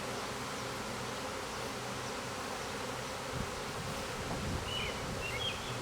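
A honey bee swarm buzzes steadily, a dense, even drone of many wings at moderate loudness with no voices.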